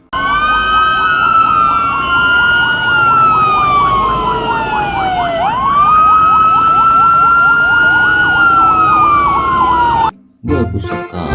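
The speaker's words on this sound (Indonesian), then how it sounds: "Di sini ada truk damkar." A toy fire truck siren wails loudly and close, with a rising and falling electronic tone repeating in long sweeps, then it cuts off abruptly near the end.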